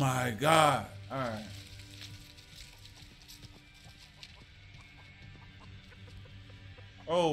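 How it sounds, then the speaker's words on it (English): A chicken clucks in the Texas Chainsaw Massacre video game, a few loud close bursts at the start and again at the end, with faint clicks and ambient game noise between. "Oh, chicken."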